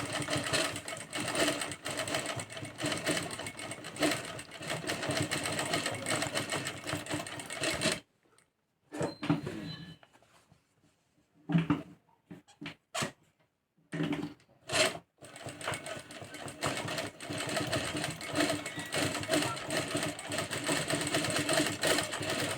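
Home sewing machine stitching a garment neckline during a basic tailoring lesson, a steady close whir running for about eight seconds, then short stop-start bursts with pauses, then another long continuous run to the end.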